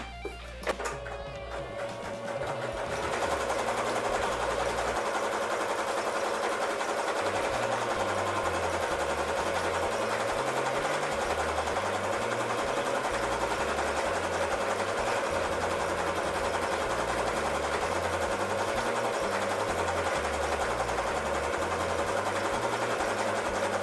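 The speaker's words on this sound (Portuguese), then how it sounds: "só pra você conseguir enxergar como que a linha sai do cone de linha, passa no porta-cone e entra na máquina de costura" A sewing machine stitches a zigzag with thread fed from a cone holder, running steadily and close with a continuous whirring hum and rhythmic mechanical pulsing, no talk.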